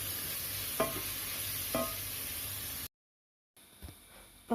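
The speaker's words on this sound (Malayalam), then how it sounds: "നന്നായിട്ട് ഇളക്കി കൊടുക്കാം." Onion, green chili, garlic paste and curry leaves stirred in a pan, a soft steady sizzle with two distinct scrapes, a brief silence, then quieter frying and a final knock.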